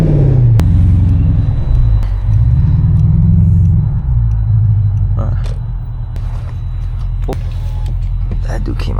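A Mercedes W222 driven at 2 AM, its engine a loud, steady low rumble with road noise that rises and eases slightly as the car moves, with no talking.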